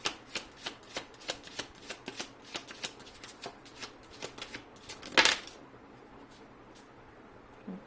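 Tarot cards are shuffled by hand in a steady, rhythmic series of soft riffling flicks, close and clear. Near the end comes one louder card slap or scrape, then near-quiet.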